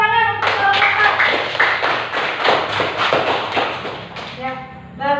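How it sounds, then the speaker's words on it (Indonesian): A classroom of grade VIII social studies students claps for a presenting student group, a dense run of close hand claps lasting a few seconds. A voice speaks just before and after. "tepuk tangan untuk kelompok."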